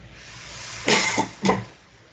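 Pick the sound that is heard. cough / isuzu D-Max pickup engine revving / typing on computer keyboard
cough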